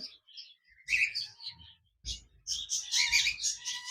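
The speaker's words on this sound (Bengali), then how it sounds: "এখানে দেখতে পাচ্ছেন একজোড়া লুটিনো রেড আই পোকাটেল পাখি রয়েছে" Caged lutino red-eye cockatiels chirp and squawk in short bursts with brief pauses, fairly faint and close, no voices.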